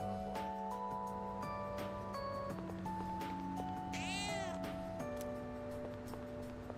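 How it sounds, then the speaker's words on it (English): Cats meow over game music in Persona 3 Reload, with one clear, close, drawn-out meow rising above a steady melodic backdrop. "Ah, cats."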